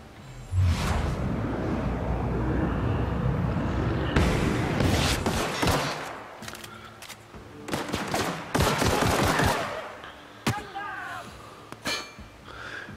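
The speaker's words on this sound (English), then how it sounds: "She's shooting at something." Repeated gunfire and bursts of automatic fire in the shooter game The Outer Worlds, loud and dense in clustered volleys with swishes and clinks between, while players talk over the combat.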